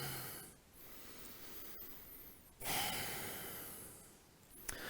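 Breathing during a floor warm-up exercise on hands and knees: quiet, close breaths with a few distinct sniffing inhales and exhales over a faint background hiss, with no speech.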